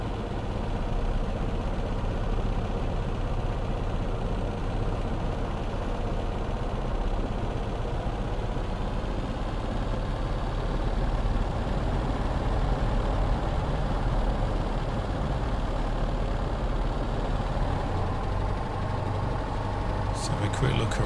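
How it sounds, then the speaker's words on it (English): Twin piston engines of a P-38L Lightning idle steadily in a flight simulator, a continuous low, even drone that runs throughout with no breaks. "We are idling a little bit too much there"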